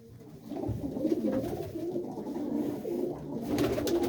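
Pigeons coo in repeated low, throaty phrases close by, several birds overlapping in a steady murmur with faint background noise.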